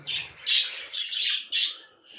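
Several birds give harsh, raspy squawks close by, four or five overlapping calls in quick succession with short gaps between them.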